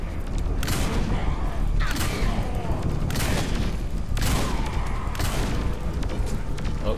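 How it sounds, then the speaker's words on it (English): Repeated shotgun blasts in Saints Row IV, dense and loud, several booming shots spaced about a second apart over continuous game noise, with a voice talking faintly underneath. "Change my gun. Try the shotgun out."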